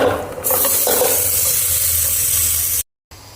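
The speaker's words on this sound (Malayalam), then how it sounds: "ഇനി ഇതിലേക്ക് ബീഫ് ചേർത്ത് കൊടുക്കുന്നുണ്ട്" Beef drops into a hot pan with turmeric and masala powder for a Kerala-style beef dish, and a loud, close sizzle and hiss bursts out, continuing steadily before cutting off abruptly.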